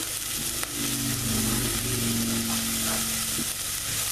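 Vegetables for a vegan pot pie frying and sizzling in a pan, with steady close sizzle and occasional stirring scrapes, no voices.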